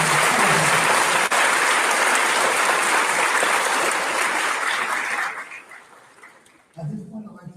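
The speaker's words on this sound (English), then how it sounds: "Can we have another round of applause for the" A crowd at a middle school graduation ceremony gives a loud, steady round of applause that fades out toward the end before a voice begins speaking.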